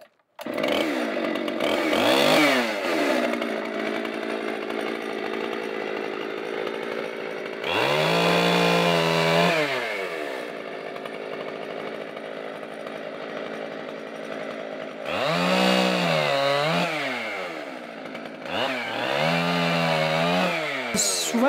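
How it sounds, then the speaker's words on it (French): A chainsaw, its throttle worked by a homemade mechanism in a tinkerer's shop, revs up repeatedly to a loud high whine, then drops back toward idle between bursts, close and steady throughout. "c'est elle qui donne le gaz à la scie"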